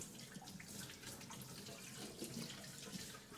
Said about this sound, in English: And now I'm just going to go ahead and rinse the vessel, the pitcher.